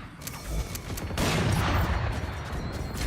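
Gunfire and a rising explosive burst from a Valorant match in an esports broadcast, a dense loud rumble that swells after the first second and holds, with scattered sharp reports on top.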